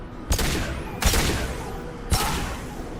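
Weapon bursts in Mass Effect 2, three sharp loud reports spaced about a second apart, each with a short ringing tail, no talk over them.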